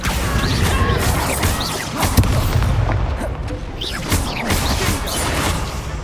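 Explosive Confringo spell blasts in the Hogwarts Legacy video game, booming and crashing loudly amid chaotic battle noise, with heavy impacts rolling through the whole stretch.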